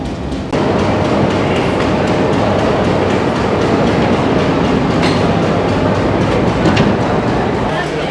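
A train runs on rails with a steady, loud rumble and rattling clatter of wagons throughout, close and continuous, with faint squeals here and there.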